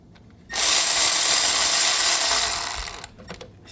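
A power tool spins loudly and steadily for about two and a half seconds while removing a bolt from the AC compressor of a Mitsubishi Outlander, then stops, followed by a few faint clicks.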